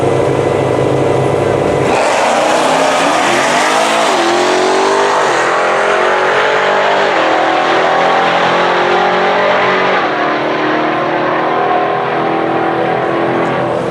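Drag racing car launching for a quarter-mile pass at a strip, a loud roar building with rising revs and gear changes, then fading, with a commentator talking over it.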